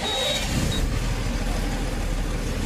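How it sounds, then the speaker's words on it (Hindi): A Tata BS4 vehicle, one with a wiring fault making its lights blink, starts up, and its engine settles into a steady, close idle rumble that runs loud and continuous with no talk. "एक बार गाड़ी स्टार्ट करते हैं, देखते स्टार्ट हो रहा है कि नहीं हो रहा"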